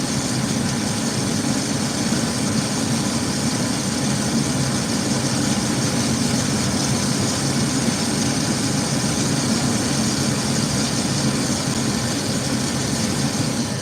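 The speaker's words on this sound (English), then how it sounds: "There's a blower fan in the bottom. That blower fan pulls air in on the back side of the machine here." A coffee roaster machine with a blower fan in its base runs steadily, a dense continuous whoosh and mechanical hum that stays even and fairly loud throughout, with no voices.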